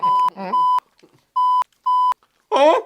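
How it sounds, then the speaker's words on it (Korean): A phone sounds an emergency alert text message: several loud, flat electronic beeps in an uneven pattern, with voices briefly heard between and after the tones. "재난 문자 왔다."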